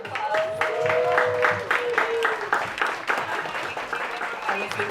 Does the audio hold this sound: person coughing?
no